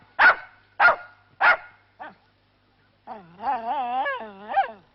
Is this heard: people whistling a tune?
no